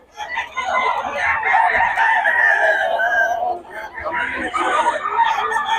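Fighting cocks in Bocaue crow loudly and close by, long repeated crows with some clucking, while people talk over them.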